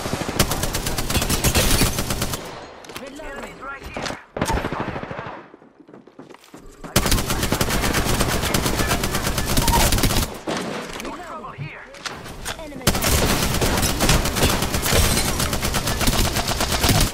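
Sustained bursts of rapid video game gunfire, loud and dense, broken by brief quiet gaps, with players talking over it.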